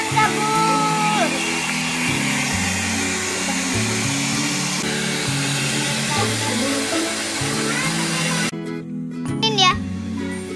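A hair dryer blows steadily while a rabbit is dried after a bath, its whir running under a child's chatter before cutting out near the end.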